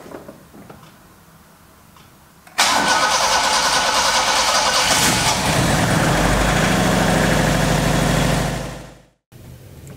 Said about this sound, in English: the first thing you need to do is start the engine, of course, and then let it warm up to operating temperature